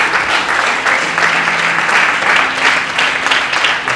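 A church congregation applauds and cheers in a steady, full burst of clapping that swells and holds for several seconds, with no clear speech over it.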